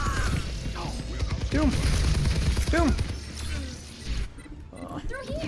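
A rocket barrage ultimate fires in a video game, a dense rattle of rapid launches and bursts. The loud volley comes in waves beneath a person's talk.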